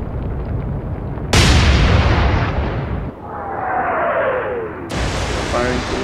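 Naval guns fire in the Atlantic Fleet game: two loud, close cannon blasts a few seconds apart, with a descending whistle of a shell in flight and a rumbling tail between them.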